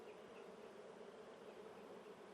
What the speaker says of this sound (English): There's a lot of bees in here, actually.